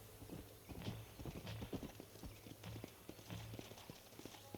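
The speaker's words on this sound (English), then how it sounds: "Gonna get my horse." Horse hooves clop in Red Dead Redemption with a steady, quick rhythmic beat of soft, repeated hoofbeats, heard alone under a faint low hum.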